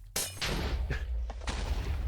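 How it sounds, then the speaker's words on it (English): Delayed explosion skill in the game Tensura: Roguelited, a sharp booming blast followed by a quick series of further bursts over about two seconds, loud and close. "I love the delayed explosion"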